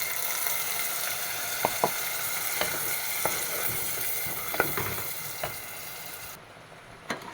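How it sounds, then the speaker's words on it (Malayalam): Tomato paste hits a pan of lightly sautéed onions, giving a steady close sizzle and fry with a few sharp stirring clicks scattered throughout. "തക്കാളി പേസ്റ്റാക്കിയത് ഒഴിച്ചു കൊടുക്കാം."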